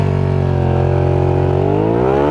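Suzuki SV650 motorcycle riding slow U-turns, its engine note a steady close drone that climbs smoothly in pitch as the throttle opens, with no talking.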